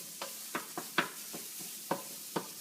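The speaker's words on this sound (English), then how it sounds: "we'll add our garlic and our ginger. You're going to hear that sizzle, which means it's ready" Garlic and ginger sizzle and fry in olive oil, a steady low hiss broken by about eight soft scraping stirs spread evenly, close, quiet, with no talk.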